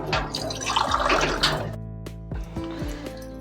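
Water is poured into a pot of Malvani chicken curry, a splashing gush near the start that settles into dripping and a few thin trickles, close and fairly loud.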